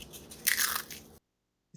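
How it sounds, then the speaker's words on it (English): Someone bites into a crispy puri made for panipuri, giving one loud, close, brittle crunch that crackles for under a second and then cuts to silence. "Can you hear the crunch?"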